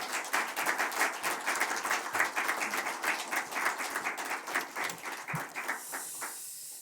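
A church congregation at a Friday prayer meeting claps to welcome a preacher. Many hands make a brisk, even patter that holds steady, then thins and fades toward the end, with no voices on top.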